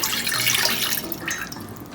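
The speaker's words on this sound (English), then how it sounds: "first you want to pour the water in a saucepan" Water pours steadily into a pan, a continuous splashing rush with a slight shift in tone as it fills.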